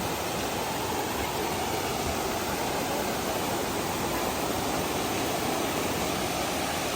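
A waterfall at Bolinao, Pangasinan, pours with a loud, dense, unbroken roar of falling water, close and constant throughout with no voices.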